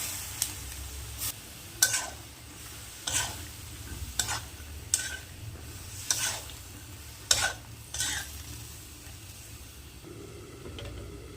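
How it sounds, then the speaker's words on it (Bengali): Eggplant and potato pieces fry in spiced masala for a rohu fish curry, a low steady sizzle broken every second or so by sharp spatula scrapes and clinks against the pan, no one speaking. "এখন বেগুন আর আলুগুলো আমি এই মশলার মধ্যে কষিয়ে নেব"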